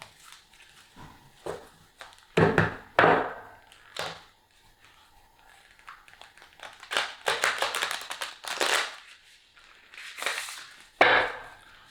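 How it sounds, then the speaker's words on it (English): Tarot cards being shuffled by hand, a series of crisp riffling bursts and soft slaps that come and go in uneven clusters, close by, with no talking. "Let's try to shuffle again, because that was a bad one."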